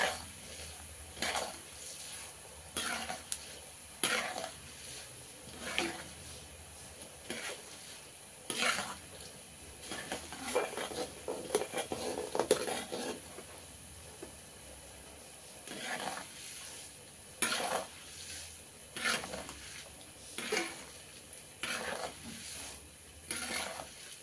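Dried red and green chilies fry in hot oil for lemon rice, with a faint sizzle under repeated scraping strokes of a spoon against the pan at an irregular pace.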